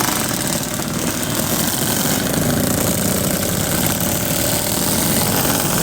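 Motorcycle engine idling at an RXZ owners' club gathering, a steady close rumble running unbroken with dense noise and no talk.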